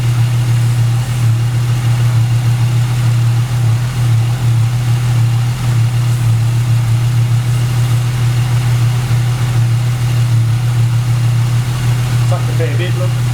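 A supercharged Holden VY Commodore idles steadily in the workshop, a constant low hum close by for the whole stretch, with a faint clink near the end.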